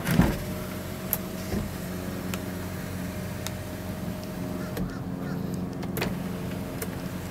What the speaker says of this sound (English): I'll go ahead and open the sunroof for us real quick.